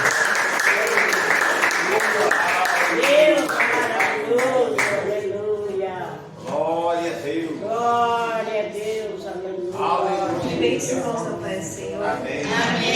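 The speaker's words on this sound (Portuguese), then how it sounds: "as palmas vão ao Senhor Jesus nesta noite" A church congregation claps for Jesus during an evening service, scattered hand claps mixed with raised, song-like voices and exclamations. The sound is fairly close and lively, with voices dominating much of the stretch.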